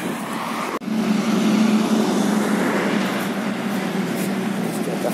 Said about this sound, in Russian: Автобусы везут строителей